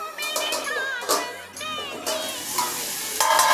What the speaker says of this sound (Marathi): भाजी टाकून घेऊया. मिक्स करून घ्यायचे आणि झाकण ठेवायचं.